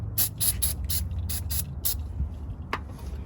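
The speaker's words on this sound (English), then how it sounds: "go ahead and spray this off too" A spray can of brake cleaner hisses in several short bursts on Ram 1500 front brake parts, then a few quieter sprays and a light metallic clink follow near the end.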